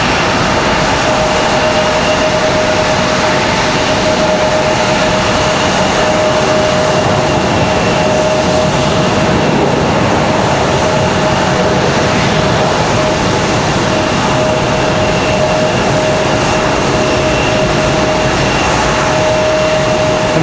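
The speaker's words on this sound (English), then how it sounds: "American touching down, that's Republic 4658" An American Eagle Embraer E175 jet airliner touches down at Raleigh-Durham airport, its engines giving a loud, steady roar with a sustained whine that fills the whole stretch without letup.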